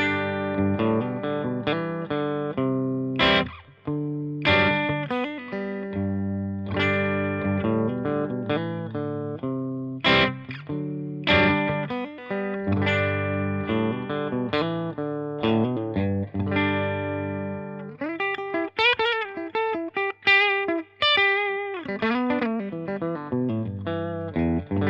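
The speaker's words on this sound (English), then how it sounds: "Now I'm going to coil split that mini humbucker and see what the single coil tone sounds like." A Blackstar Carry On travel electric guitar plays a bright, clean single-coil tone from a coil-split mini humbucker, with chords and single notes ringing out one after another, loud and close.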